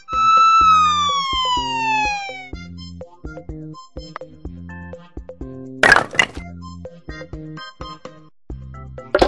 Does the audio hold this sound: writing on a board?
no